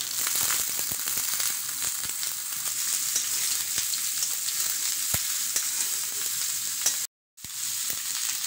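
Panch phoron spices and sweet pumpkin fry in hot oil with a loud, continuous crackling sizzle and scattered sharp pops, with a brief silent gap near the end.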